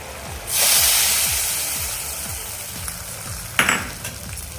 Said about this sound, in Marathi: हा तडका आपण आता चणा मसाल्यावर घालून घेणार आहोत